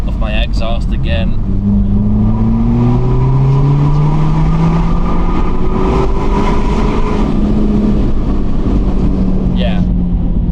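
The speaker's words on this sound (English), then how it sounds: "now we can enjoy the beautiful sound of my exhaust again" A BMW 1 Series with a loud straight-pipe exhaust revs repeatedly, the engine note rising and falling in long sweeps over a constant rumble.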